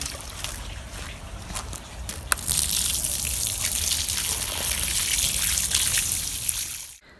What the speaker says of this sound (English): I have extremely docile fish who don't mind at all me dipping into this pond and getting some of their water.